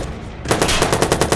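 Rapid automatic gunfire from a Watch Dogs game shootout, a quiet moment and then a fast string of about eight sharp, loud shots in close succession.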